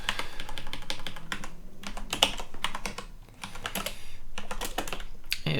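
Rapid typing on a computer keyboard fills the clip, a close, busy stream of clicking keystrokes with a brief slower pause midway, no talking.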